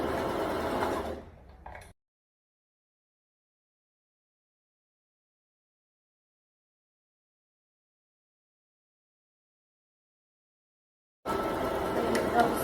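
A sewing machine stitches fabric for a baby girl's ball dress in two short bursts of steady motor whirring, one at the start and one at the end, with long silence between.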